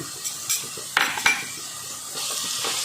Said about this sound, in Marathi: व छान असं हे परतून घेणार आहे